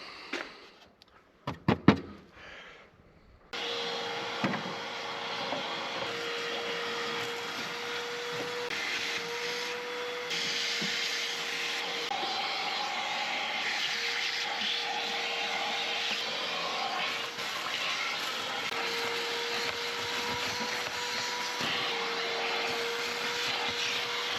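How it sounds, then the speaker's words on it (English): After a few clunks, a vacuum cleaner starts and runs with a steady whining drone, its pitch shifting slightly as it sucks a nest out of a 1965 Corvair. "try to vacuum out the rest of his nest"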